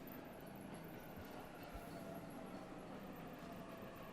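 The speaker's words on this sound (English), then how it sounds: "There's the train." Train arriving at a station in the video game 13 Sentinels: Aegis Rim, a quiet steady rail rumble with faint wheel noise throughout, no talking.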